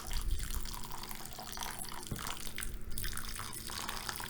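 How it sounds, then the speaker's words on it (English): Water poured from above onto freshly potted seedlings, a steady gentle trickle and splash running continuously without speech. "so I'm going to water from above this first time"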